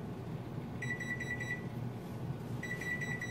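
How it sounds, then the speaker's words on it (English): A kitchen timer beeps during soup cooking, a fast electronic alarm in two bursts separated by a short pause, fairly clear above a low room hum and kitchen background. "Turn that timer off."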